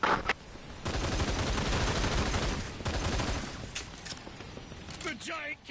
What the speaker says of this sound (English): The artillery fire is too strong!